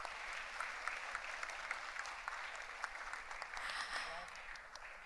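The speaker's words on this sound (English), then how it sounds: "Can we have a huge round of applause," A crowd applauds at a university graduation convocation in Dubai, sustained even clapping heard from a distance at moderate level, with a voice faintly underneath.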